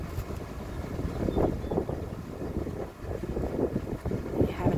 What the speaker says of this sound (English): That's the wind blowing.